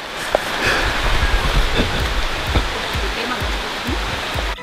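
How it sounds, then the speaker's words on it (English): Steady heavy rain on a mountain hiking trail hisses alongside rushing water, with scattered drips and patters, fairly loud and continuous. "It's already raining here,"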